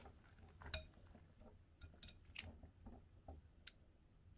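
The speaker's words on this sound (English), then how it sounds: "let's continue on mixing." White glue slime being mixed in a bowl: faint, close sticky squishes and soft clicks of the utensil against the bowl, repeating irregularly with no talking.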